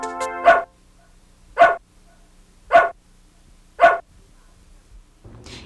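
A dog gives four single barks, close and loud, spaced evenly about a second apart like counting, with quiet between them and a brief rustle at the end.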